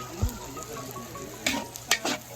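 Onions and garlic sauté in a pan, giving a steady, low sizzle with a few sharper spits and stirring clatters near the end.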